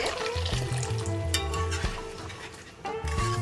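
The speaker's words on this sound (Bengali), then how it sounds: "এবার এটা আমি একটু অল্প পরিমাণে জল অ্যাড করে দিচ্ছি" A spice masala in a pan sizzles and spits loudly after a little water is added, with a spoon scraping in short, repeated strokes as it is stirred, close up and without talk.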